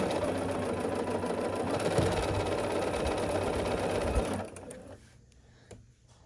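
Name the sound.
sewing machine sewing quilt block pieces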